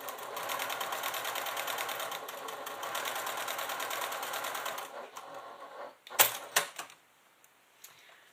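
A domestic sewing machine top stitching a fabric clutch along a zipper, a fast steady mechanical whir-and-tap for about five seconds, then stopping, followed by a few sharp clicks and handling knocks before near silence.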